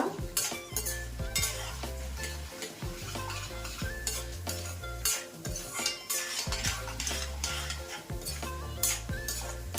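Ingredients for a bitter gourd spice powder are stir-fried in a pan, a rhythmic series of metal spoon scrapes and clinks over a light sizzle, close up and without talking.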